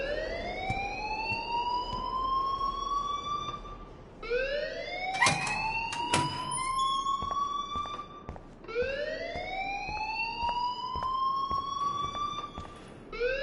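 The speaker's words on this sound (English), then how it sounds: "please turn off that alarm since that's your job" An alarm in the video game Life is Strange wails in rising, sweeping tones that repeat about every four seconds, loud and steady, with a few sharp clattering hits in the middle and no talking.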